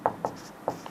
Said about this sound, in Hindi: अभी देखो यहाँ पे हम लिखते हैं यूजिंग